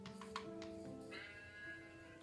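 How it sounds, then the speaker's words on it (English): A sheep bleats in the Minecraft survival game on Xbox One, with a few faint, wavering bleats sitting low in the mix over soft game ambience. "I can go shear this sheep."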